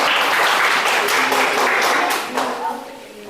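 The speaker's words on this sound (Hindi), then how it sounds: "चलो, इसके लिए भी एक ताली बजना चाहिए।" A classroom of students claps for a classmate who wrote a Hindi word correctly during a dictation lesson, a dense burst of applause that fades toward the end with voices mixed in.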